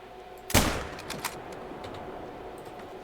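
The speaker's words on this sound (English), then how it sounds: "then we'll shoot him" A single loud gunshot fired at a tiger in a hunting video game, a sharp close crack at the start followed by a brief rolling echo and a faint second report, then quiet ambience.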